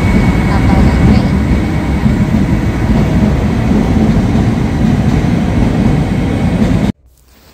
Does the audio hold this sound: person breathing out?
no